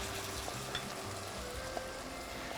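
Tomatoes hiss into a hot, spiced pan of shakshuka, giving a steady, close sizzle with a few light stirring clicks over the top.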